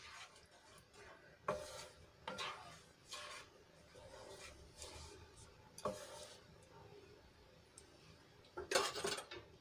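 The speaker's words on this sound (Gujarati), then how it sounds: "અને સરસ રીતે છાશને અને પાણીમાં ગ્રેવીમાં સરસ રીતે મિક્સ કરીને હલાવી લઈશું" A spoon stirs buttermilk gravy mixed with water in a pot, producing faint, scattered scraping and clinking strokes at irregular intervals against quiet kitchen background.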